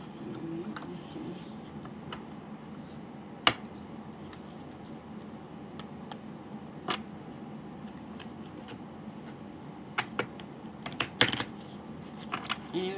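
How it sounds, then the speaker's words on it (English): Oracle cards being shuffled by hand, a faint soft riffling and sliding under low room noise, with scattered small sharp taps and clicks, heavier toward the end. "I know it's hard to see my hands and everything, but I am actually shuffling"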